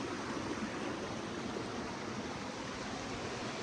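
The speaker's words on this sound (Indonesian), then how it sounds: "Danau itu pun bisa menjadi aliran sungai seperti ini" A river stream flows out of a lake along a trail, giving a steady, even rush of water that stays constant throughout with no voices.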